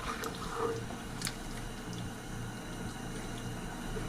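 Water pours into a cooking pot while a classic lasagna is prepared, a steady close running and splashing wash with a brief louder burst early on and no talk.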